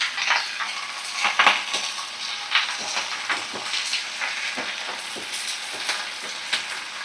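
Chopped onion, red Malabar spinach, eggplant and potato frying in a pan, with a steady close sizzle broken by repeated scraping stirs and clinks of a utensil against the metal.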